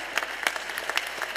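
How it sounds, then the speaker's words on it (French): Audience applause at a plenary session on feminism, a steady wash of many hands clapping with a few sharper individual claps standing out, moderately loud and without talk. "Et vous méritez les applaudissements."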